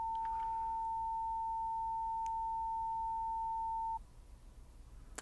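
A steady pure 900 Hz test tone from a medical hearing check in a cranial nerve exam roleplay, held clearly for about four seconds before cutting off and leaving quiet room hiss.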